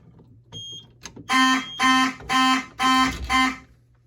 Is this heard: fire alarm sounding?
yes